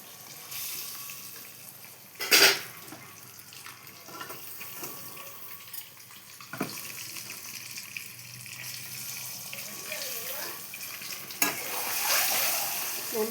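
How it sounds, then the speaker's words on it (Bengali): Eggs frying in a pan for a home-cooked egg dish, a steady sizzle with scraping stirs and a few sharp clanks of a utensil against the pan. "লাল লাল করে ভেজে নেব।"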